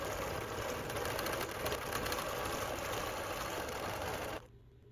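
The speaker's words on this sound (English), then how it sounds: "So we're going to go ahead and stitch the pebbles into the background." A longarm quilting machine stitches a pebble design into a quilt background, running as a steady, close mechanical whir with fast rapid needle chatter that cuts off abruptly near the end, no talking.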